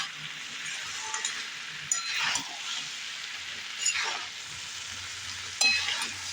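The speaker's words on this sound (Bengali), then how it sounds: "এখন একটু সুন্দর করে কষিয়ে নিলাম" Boiled mixed vegetables sizzle steadily as they are sautéed in a pan, with soft stirring scrapes and a few light clinks of a utensil against the pan, no voices present.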